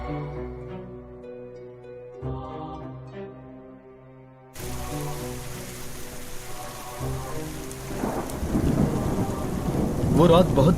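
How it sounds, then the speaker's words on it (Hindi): Heavy rain pours down with rumbling thunder, first over a quiet musical passage, then swelling louder as the downpour intensifies. "वो रात बहुत बारिश हो रही थी।"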